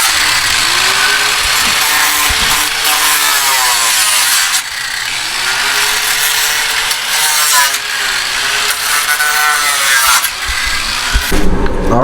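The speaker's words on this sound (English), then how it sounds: "we were just cutting the radiator cover" A power tool cuts through the radiator cover of a 2014 Mustang GT, a loud, harsh, continuous grinding whine with sweeping pitch changes as the blade bites, heard close and alone throughout.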